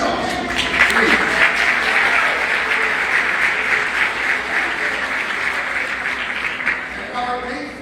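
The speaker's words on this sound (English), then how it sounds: "Clap for yourselves." Audience applause, people clapping for themselves after a speech, a steady loud patter of many hands that holds throughout and tapers slightly at the end, with a voice briefly audible beneath it.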